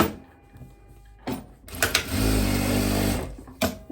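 On a long dress with puff sleeves, a sewing machine runs a short burst of stitching along a seam, about a second of close whirring with scattered clicks and handling thumps before and after.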